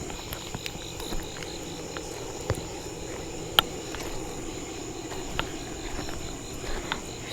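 Cicadas and other insects call steadily around a lakeside campfire at night, a dense high buzzing chorus with scattered faint clicks and ticks, no voices.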